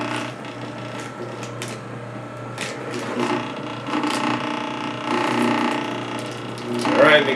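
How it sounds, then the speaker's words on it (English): A Champion 4000 juicer grinds Swiss chard, a steady mechanical whirring and rattling that runs throughout, loud and close, rising slightly near the end. "let's go ahead and take some of this Swiss Chard here and stick it in the machine and see how it works"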